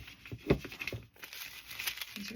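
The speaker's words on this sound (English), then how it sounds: "These are tissue paper." Sheets of tissue paper crinkle and rustle in irregular bursts close to the microphone, with a sharper crumple near the start and softer handling afterward.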